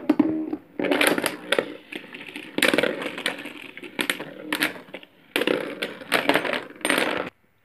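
Beyblade Burst tops launched into a stadium spin and clash in bursts of rapid metallic clatter and rattling, loud and close, with short pauses between collisions.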